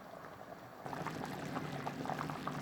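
Turkish soup simmering in a pot, a low continuous bubbling with soft gurgles that grows a little busier partway through, close and fairly quiet with no talking.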